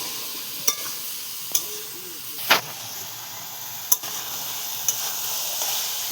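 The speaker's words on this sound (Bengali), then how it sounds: "আলুর সঙ্গে সয়াবিনটাও ভেজে নেব, হালকা ভাজবো।" Soybean chunks and potatoes fry lightly in a pan with a steady soft sizzle throughout, broken by a few sharp clicks and scrapes of stirring, close and alone without talk.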